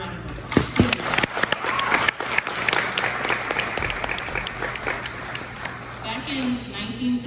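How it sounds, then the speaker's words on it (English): Applause from a convention audience, dense clapping at full strength from the start, fading gradually toward the end, with a voice talking over it. "Give yourself a round of applause."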